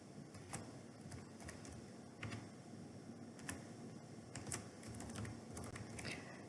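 Typing on a computer keyboard while entering list items in Word, quiet irregular key clicks with occasional louder taps, faint and close against a low hiss.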